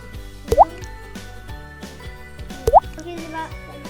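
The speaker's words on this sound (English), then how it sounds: "Now you need to drop one of each of the color tablets and space them out evenly inside the tray with milk." Color tablets drop one at a time into a tray of milk for a kids' kitchen science kit, making two distinct wet plops about two seconds apart, close and clear over low background noise.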